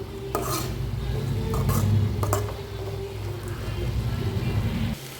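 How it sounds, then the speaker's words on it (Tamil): Cooked beans and lentils being gently stirred together in a pan for a Tamil beans usili poriyal, with soft scraping and clinking of the spoon against the pan over a low steady hum, no talking. "இப்போ இந்த பருப்பை நம்ம வந்து இந்த பீன்ஸோட சேர்த்துடலாம். ஜென்டலாக ஒரு வாட்டி மிக்ஸ் பண்ணிடலாம்."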